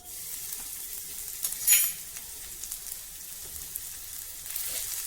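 Crushed ginger and garlic fry in about a tablespoon of hot oil in a pan, giving a steady close sizzle with a brief louder crackling burst early on.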